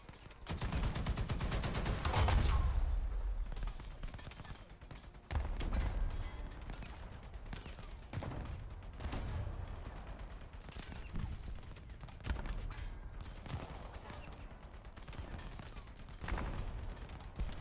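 Tank shells strike a vehicle in War Thunder, heard as a dense barrage of booming impacts and rattling gunfire with heavy low-end thumps, loudest early on and continuing in bursts throughout.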